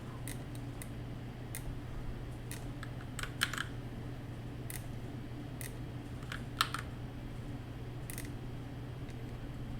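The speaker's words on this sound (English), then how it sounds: "I'm just hitting Control X to cut and Control V to paste." Computer keyboard keys are pressed for cut-and-paste shortcuts while building an Excel dashboard, giving a handful of crisp, quiet clicks in small irregular clusters over a low steady hum, with no talk.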